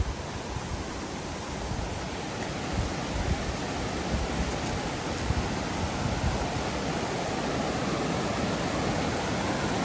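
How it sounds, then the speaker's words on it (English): A dense, steady roar of falling water fills the scene, constant and unbroken, like a waterfall heard from close by. "I was just hearing this waterfall, so gotta check it out."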